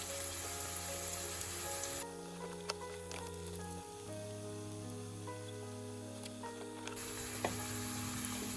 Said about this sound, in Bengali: আমার কাটলেট ভাজা কিন্তু হয়ে গেল।